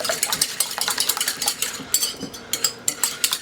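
Spoon stirring mayonnaise into a spinach casserole mixture in a bowl: close, quick clinks and scrapes in an uneven rhythm, with no talking.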